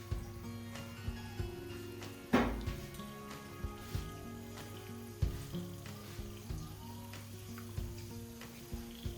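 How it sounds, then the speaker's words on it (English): Chopped onions fry in hot oil for egusi soup, giving a soft continuous sizzle with light irregular ticks and pops, close by and fairly quiet. "to get hot a little, I'm going to be adding my chopped onions."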